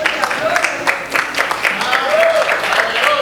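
A church congregation breaks into loud, sustained clapping filling the room, with voices and cheers mixed in throughout.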